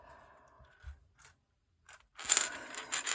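A few faint clicks, then loose pound coins jingle and clink together close by, a short metallic rattle with no talking.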